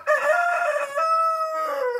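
A rooster crows nearby, one loud drawn-out cock-a-doodle-doo with a short break partway through, heard clearly with no talking over it.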